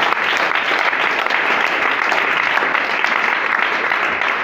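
A church congregation claps loudly and continuously, a dense wash of applause filling the room without a break.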